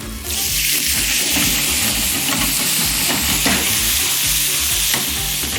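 Aubergines cook in a pan with a loud, steady close sizzle as a little water is added, with stirring scrapes and bubbling throughout.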